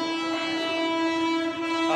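A train horn blares as a steady, loud, close tone throughout the short moment, with no other sound breaking through.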